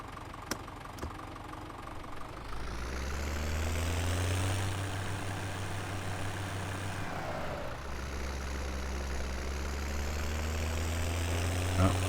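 Tractor engine idling in Farming Simulator 17, a steady low mechanical drone whose pitch rises once and later drops, continuous and fairly close with little else over it.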